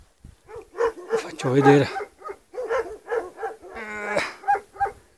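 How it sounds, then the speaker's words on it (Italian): Several dogs bark and yip at an alpine pasture in the mountains, short repeated barks close by with a whimpering whine, while a person talks briefly over them. "E questo è l'Alpe, guardate i cani, che belli che sono."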